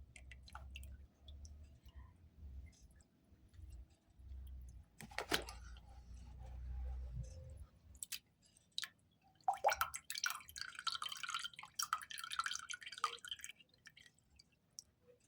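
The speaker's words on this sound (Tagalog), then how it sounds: "Kailangan natin salain para hindi maisama yung sabaw na ibinabad natin sa kanya" Soaked glutinous rice drained through a strainer for suman, with soft wet squishing and intermittent drips and trickles of water, close and quiet.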